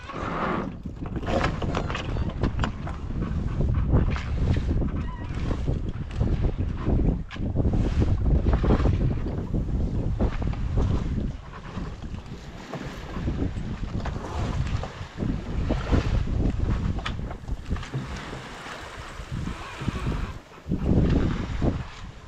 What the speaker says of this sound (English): And we are sailing again.